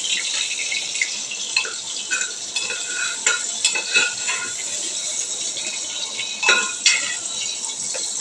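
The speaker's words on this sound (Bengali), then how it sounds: "দেখো আলুটা ভালো মতন ভাজা হচ্ছে" Potatoes frying in oil in a home kitchen pan, a constant bright hiss of sizzling broken by irregular stirring scrapes and clicks, close and fairly loud, with no voices.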